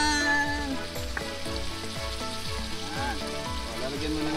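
Shrimp fries in a pan over an outdoor cooking setup in a jungle, giving a loud, steady, close sizzle with crackling and popping throughout and no talk over it.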